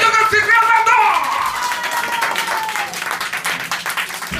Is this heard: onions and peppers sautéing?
no